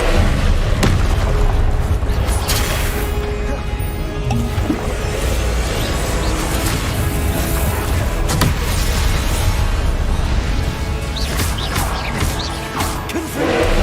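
Booming spell blasts from Confringo in the video game Hogwarts Legacy, loud and dense, with repeated explosive bursts over a constant rumbling game soundscape and no clear pauses.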